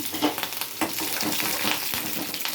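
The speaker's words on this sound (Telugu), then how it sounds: "తాలింపులు వేసేద్దాం వేగిన తర్వాత రెండు పచ్చిమిరపకాయలు రెండు ఎండుమిరపకాయలు అయితే వేసుకున్నాను" A brief tempering of green chilies and dried red chilies crackles in hot oil, producing a short burst of close, steady sizzle with light spattering and no voices.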